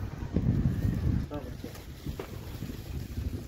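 Wind buffets the microphone in low rumbling gusts outdoors during the Dashain festival, with faint voices underneath.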